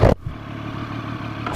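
Engine of a 2014 Triumph Street Triple ABS motorcycle held at full RPM, a steady high buzzing drone, close and loud after a brief burst of noise at the start.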